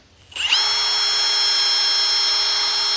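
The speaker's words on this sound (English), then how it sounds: "It's a wire wheel for my drill. We'll try this sumbitch out and see how it does" A power drill fitted with a wire wheel whirs up from quiet into a loud, steady high-pitched whine that holds constant without a break, close and alone with no talking.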